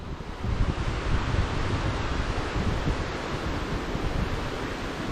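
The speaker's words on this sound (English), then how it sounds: "Can you hear the waterfall?" Waterfall at Nanu Oya heard from a railway bridge on a hill-country rail hike, a steady, broad roar of rushing water with no talk.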